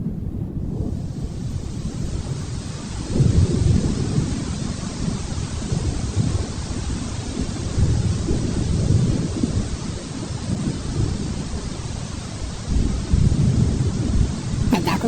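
Heavy rain and a thunderstorm outside a house in strong wind, a steady loud roar of rainfall with deep rumbling surges of thunder swelling and fading across the whole stretch, no voices.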